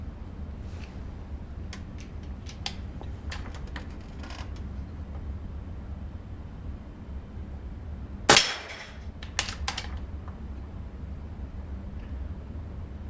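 Two sharp cracks from a Benjamin Marauder .22 air rifle firing at steel plates and cans, the first loud and clear at mid-clip, a fainter one after, with small clicks and handling noise around a low outdoor hum.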